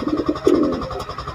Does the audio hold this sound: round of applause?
no